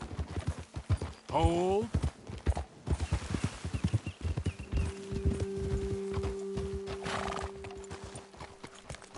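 Horses in the game Red Dead Redemption 2 clip-clop along a trail with a rhythmic, close hoof beat, one horse letting out a sharp whinny early on, while characters talk over the hooves.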